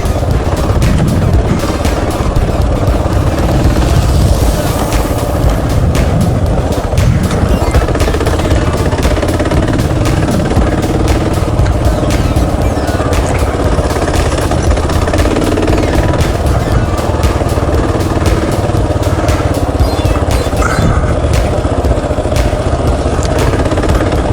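A Kawasaki KLR motorcycle engine runs at low RPM during a spring ride, a loud, continuous chugging drone with wind rush for the whole stretch, no voices.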